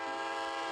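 A train horn in a train-versus-truck video game sounds as one steady, sustained tonal blast lasting under a second, loud and alone with no talking.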